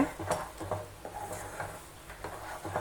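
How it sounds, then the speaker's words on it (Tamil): Red banana being stirred continuously in a cooking pan, with soft scraping and stirring strokes repeating in a loose, steady rhythm close by. "கைவிடாமல் இந்த மாதிரி கிளறி விட்டுட்டே இருங்க."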